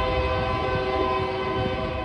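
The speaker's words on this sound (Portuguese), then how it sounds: "Senta o barulho, o trem tá passando," A train passes through a town center with its horn sounding steadily. The horn is loud and sustained over a low rumble of rail noise for the whole short stretch.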